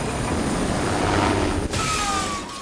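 Helicopter in a 1978 Superman: The Movie film scene, a loud, dense rotor and engine roar that shifts abruptly partway through, with a faint whine rising above it, no speech.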